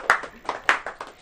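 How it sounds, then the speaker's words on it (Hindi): A small church congregation claps to welcome a first-time visitor, a few sharp close hand claps in a loose, uneven rhythm. "क्या आरती को ताली देकर स्वागत कर सकते हैं?"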